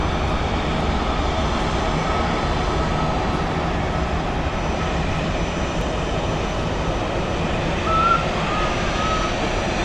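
A Swiss Airbus A321 airliner sits on the runway at Zurich Airport before a flight to Lisbon, its engines producing a loud, steady roar that stays constant throughout with no voices.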